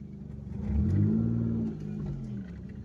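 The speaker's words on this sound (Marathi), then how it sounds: "बघा गाडी कशी पार्किंग केली" Car engine at a busy market on a Sunday while the vehicle is manoeuvred into a tight spot beside a large parked truck, a low hum swelling into a brief rev, then settling back to a quiet idle.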